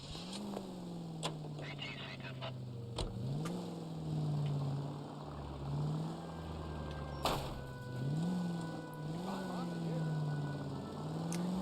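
Car engine driving in the video game LA Noire, a steady low drone with rising revs and gear-shift swells throughout, loud and close, with a few faint clicks over it.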